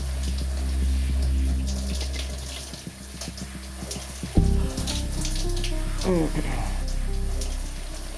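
Running water from a shower pours continuously and fairly loud, with voices talking underneath the steady spray.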